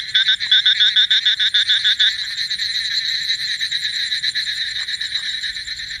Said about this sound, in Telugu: బయట అయితే కొంచెం ముసురు పట్టేసి చినుకులు పడుతున్నాయండి, అందుకే కప్పల సౌండ్ బాగా వస్తుంది.